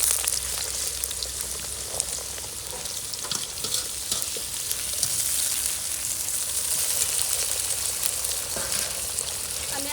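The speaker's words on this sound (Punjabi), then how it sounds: "ਆਲੂ ਹੌਲੀ ਹੌਲੀ ਭੁੰਨ ਹੋਣਗੇ" Potatoes with onion frying in a pan hiss in a loud, steady, close sizzle that runs unbroken throughout, with faint scraping of stirring.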